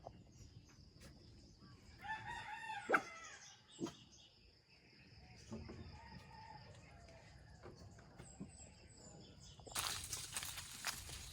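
A rooster crows a couple of times at a distance while hens cluck softly nearby, with scattered footsteps and a burst of hiss near the end.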